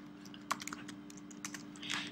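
Computer keys clatter in short quick bursts with brief pauses as a Linux remove command is typed, close and soft over a faint steady hum, no talk.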